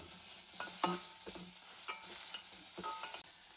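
Tomatoes and tamarind fry in a pan for Kannada-style bassaru, a soft steady sizzle under repeated scraping stirs from a spoon or spatula, close and moderately quiet.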